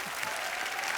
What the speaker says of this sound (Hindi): एक बार जोरदार तालियां बच्चा के लिए